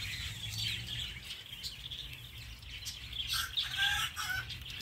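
Chickens clucking and murmuring in a home garden, a steady close mix of soft clucks with small birds chirping and occasional wing flaps around them.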